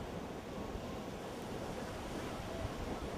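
Ocean surf washes onto a beach in a steady, broad roar, with wind rushing across the microphone throughout and no distinct breaks or voices.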